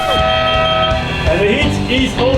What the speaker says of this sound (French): Il y a un mec qui klaxonne depuis 3 jours là